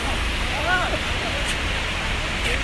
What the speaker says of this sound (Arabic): شلال، تقول نهر، تقول نبع